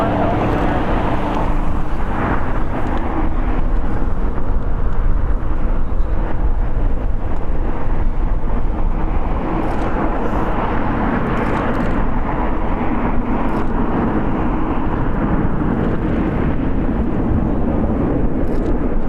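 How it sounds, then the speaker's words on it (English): A China Cargo aircraft taxiing at LAX gives a continuous, fairly loud low jet roar and rumble, steady throughout with slight swells as it moves past. "Let's sit back and enjoy China Cargo taxi in front of us."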